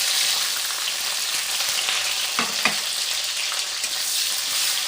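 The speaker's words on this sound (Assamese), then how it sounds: "এতিয়া পিঁয়াজখিনি কিছু সময় ভাজি ল'ম" Onions, bay leaves, dry red chillies and green chillies fry in a pan with a steady, bright sizzle, close and continuous, with a few soft spoon scrapes near the middle and no talking.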